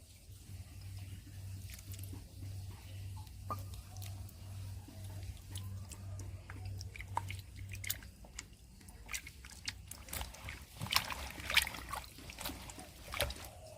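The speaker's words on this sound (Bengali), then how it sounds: "এই জলের মধ্যে আমি এবারে চুন দিয়ে দেব" Slaked lime being added to water in a kitchen while preparing ash gourd morobba, with irregular wet splashes, squelches and clicks and a steady low hum through the first half.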